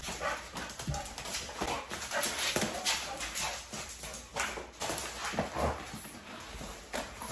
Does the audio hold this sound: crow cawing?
no